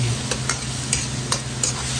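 Raw bacon sautéing in a pan, a loud steady sizzle with rhythmic scraping strokes of a utensil about every third of a second.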